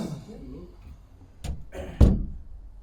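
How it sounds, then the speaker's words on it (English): A door closes indoors as a podcast gets started, with a light thud followed by a heavier solid thunk about half a second later, after some speech at the start. "Close the door."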